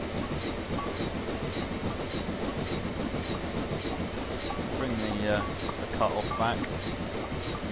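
A Union Pacific Big Boy steam locomotive rolls along Sherman Hill in Train Simulator 2015, a steady rumbling chug with rhythmic clanking and occasional wheel squeal, while a voice talks over it.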